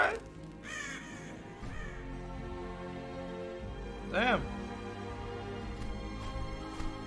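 A crow caws a few times in the Undawn video game, one loud clear caw standing out over a busy background of game sound and overlapping voices.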